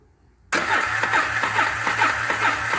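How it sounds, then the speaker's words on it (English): After half a second of quiet, an ATV engine with a newly installed carburetor is suddenly turned over, a loud rhythmic cranking chug that keeps pulsing evenly to the end, alone without talk. "we'll turn the bike over"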